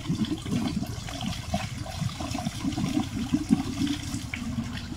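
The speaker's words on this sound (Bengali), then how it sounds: "লিক হয়েছে না কেন পানি যাচ্ছে" Water pours continuously out of a leaking pipe, a steady close gushing and splashing flow that stays fairly even from start to finish, with no talking.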